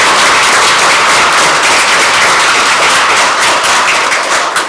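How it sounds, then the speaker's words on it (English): A room at a Tupelo city council meeting breaks into loud, sustained applause, dense overlapping clapping from many people holding steady throughout. "she deserves a round of applause"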